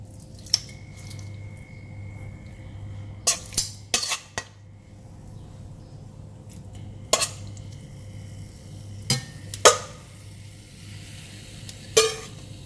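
Pork for char siu goes into a hot pan, bringing a few sharp clinks and knocks of utensil on cookware scattered over a low steady hum, with faint sizzling underneath and no voices.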